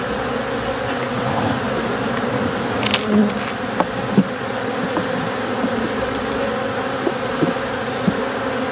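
Honey bees swarm around an open hive, a dense continuous buzzing drone close by, dotted with small knocks and clicks of frames being handled.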